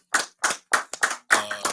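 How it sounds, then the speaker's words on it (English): A podcast guest gets a round of applause: five sharp, close hand claps in quick, slightly uneven succession, each loud and distinct, with no talking over them. "Round of applause for that."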